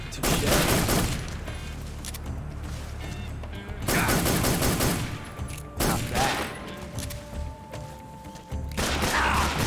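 Gunfire in the video game Metal Gear Solid 3, loud rapid volleys of shots in several dense bursts separated by short lulls, with no talking over it.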